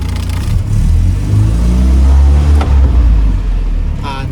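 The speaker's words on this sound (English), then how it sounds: "Now with the car fully at temperature, it starts first turn the key." A 1972 Land Rover Series, fitted with a 12V fuel pump and fully warm, fires on the first turn and settles into a loud, steady low rumble with a brief rev midway.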